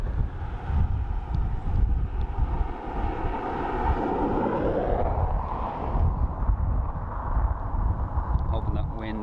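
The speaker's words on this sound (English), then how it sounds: "Hoping that wind isn't affecting the volume too much." Strong wind buffets an outdoor microphone at Dublin Airport, a continuous rough low roar with gusts throughout, a faint aircraft-like drone in the background and a voice talking over it.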